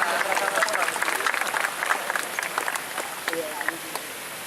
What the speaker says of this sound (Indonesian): Tepuk tangan semuanya untuk Haikal.